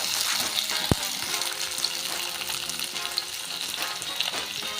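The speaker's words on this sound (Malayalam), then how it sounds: "നമ്മൾ ഇളക്കി കൊടുക്കുകയാണ്" Maggi noodles sizzle and fry in a pan while being stirred, a steady broadband crackle with a single sharp clink near the start and no talk.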